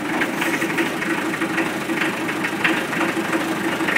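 A 1969 International 434 tractor engine runs through a cold start with glow plugs, holding a steady, close, rough idle with a rhythmic knocking throb throughout.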